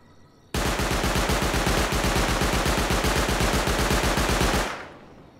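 An automated turret in Rust fires one loud, unbroken burst of rapid, evenly spaced shots, close by, for about four seconds. The shooting then stops sharply and a quieter echo fades away.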